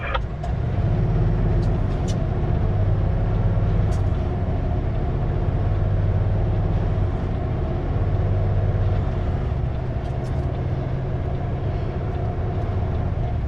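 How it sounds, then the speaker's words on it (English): A loaded Super B semi truck on a late-winter Canadian road, its tires slipping as the engine brake cuts out; a steady, loud low rumble of engine and road noise runs throughout with no talk. "Definitely slipping tires there."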